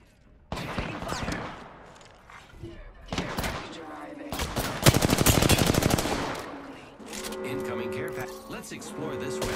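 Apex Legends gunfire, with bursts of rapid automatic shots and single cracks in quick succession, loud and close, mixed with other game effects and voice lines from the game.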